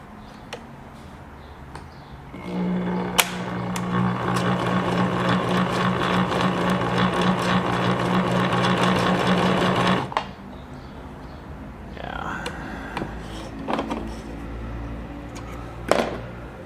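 A Fashion Touch 1036 sewing machine runs a blind hem stitch, starting with a few ticks, then a loud, steady mechanical whir with rapid needle clatter for about eight seconds before stopping, followed by scattered clicks and handling noises.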